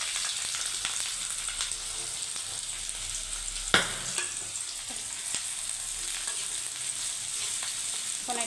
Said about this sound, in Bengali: এখন এটাকে সুন্দরভাবে আমি ভাজা ভাজা করে নেব পেস্টটা।